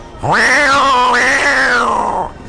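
A man imitating two cats fighting: one long, loud, wavering yowl that swells and dips before trailing off.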